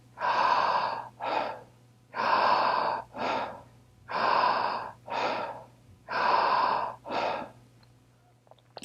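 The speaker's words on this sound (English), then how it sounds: "Just keep breathing." Deep, rhythmic breathing exercise known as emergence breath: four cycles of a long, strong inhale followed by a shorter forceful exhale, close and loud, with a faint steady hum underneath and no talking.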